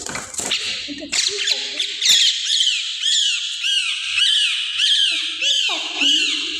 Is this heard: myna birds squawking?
yes